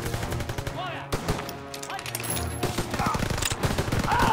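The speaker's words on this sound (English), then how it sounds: "That's a bad shotgun." Rapid gunfire, including shotgun blasts, from the Call of Duty WW2 campaign, crackling densely and continuously at close range with game music and a voice underneath.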